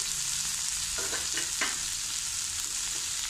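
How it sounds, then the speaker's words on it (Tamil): Tomatoes and salt sizzle and fry in a pan for a cauliflower curry, a steady hiss with a few short scraping stirs in the middle. "கொஞ்சம் சால்ட்டும் போட்டு நல்ல கிளறி கொடுத்து மூடி வச்சு வதங்க விடணும்"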